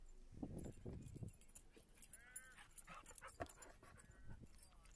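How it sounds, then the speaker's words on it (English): Dogs playing outdoors along a road, giving a few short barks and whimpering yips early on, then scattered lighter yelps and jingling sounds at a moderate distance. "and of course the dogs are out playing again"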